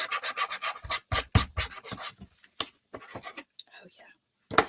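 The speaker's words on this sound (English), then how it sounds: "Now you guys know it's time for the 30 grit or the 230 grit sandpaper." Hand sanding with 230 grit sandpaper on a craft piece, with quick rhythmic back-and-forth rubbing strokes, close and moderately loud, then a few scattered scratches and pauses.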